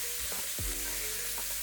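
Pork, onions and chopped garlic frying in a pot for a stew, giving a steady low sizzle with a couple of soft stirring scrapes, close and alone with no talk.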